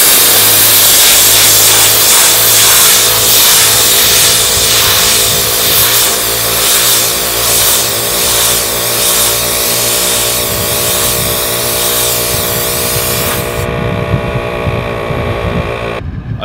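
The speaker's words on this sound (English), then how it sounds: "So plug it into that twin compressor, you'll be able to hear the difference here in the amount of air that comes out initial" ARB twin cylinder air compressor running and pushing out high pressure air: a loud, close mechanical buzz with a harsh rushing hiss that holds steady, then cuts off near the end.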